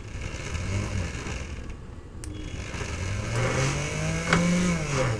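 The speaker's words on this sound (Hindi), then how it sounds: "यहाँ पर जो है मोटर में ध्यान दीजिएगा" A Baltra water dispenser's motor runs steadily at close range, a low hum that rises in pitch toward the end, with a faint click partway through.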